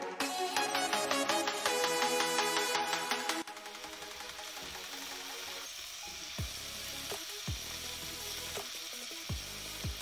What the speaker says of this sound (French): je continue à remuer jusqu'à ce que les oignons puissent cuire